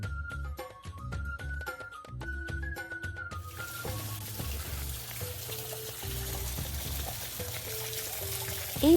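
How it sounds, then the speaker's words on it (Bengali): Water flowing steadily at a resort as a broad, even rush, near and moderately loud, starting a few seconds in after a stretch of tonal music that lingers faintly beneath it. "এই পানির সাউন্ডটা আমার কাছে অনেক ভালো লাগে।"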